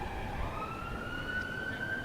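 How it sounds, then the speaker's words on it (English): An emergency siren wails in the distance near a county cricket ground, a thin, faint rising tone over quiet outdoor ambience. "Sound of a siren going off somewhere."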